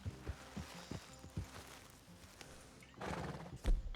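Horse whinnies and clip-clopping hooves in Red Dead Redemption 2 at the home camp, a run of hoof steps followed by a loud, close neigh near the end, with no talk.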